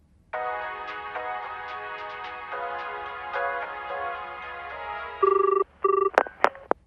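A telephone sounds as a call is put through to a hotel manager, with a steady electronic ringing tone over a low background hum. It ends in a few sharp, louder beeps and clicks.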